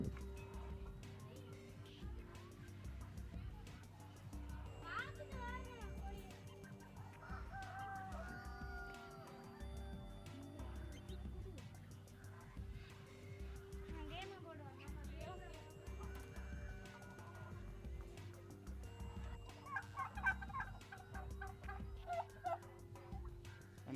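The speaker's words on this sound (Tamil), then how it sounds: "இதில் வந்து எல்லா கோழி வகைகளையும் வந்து விட்டுருக்கிறார்கள்." Chickens, roosters and turkeys kept together in a five-sided enclosure, giving a steady mix of clucks, gobbles and crowing calls at moderate distance, with people talking over them throughout.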